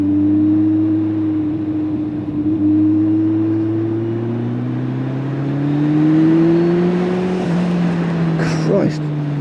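A Kawasaki Z1000 SX sports tourer motorcycle pulls hard at full throttle, its engine note climbing steadily in pitch as it revs up through the gears, loud and close, with wind rush behind it and a brief sharper burst near the end.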